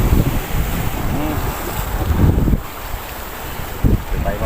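Strong, rough sea waves crash and surge against the Al Mina breakwater in Abu Dhabi in bad weather, a continuous loud wash with heavy wind buffeting the microphone.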